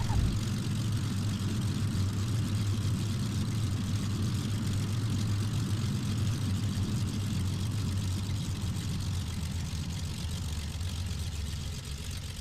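A propeller airplane rolls out after landing at Half Moon Bay, its steady engine drone loud and continuous from inside the cabin, easing slightly toward the end.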